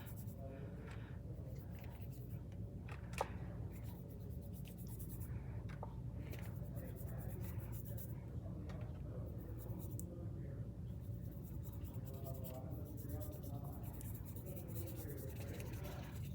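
Pencil or pen drawing a few lines across paper, a soft steady scratching under quiet talk, close and faint.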